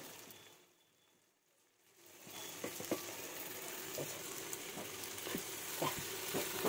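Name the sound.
paturi (leaf-wrapped parcels) frying in a pan on low heat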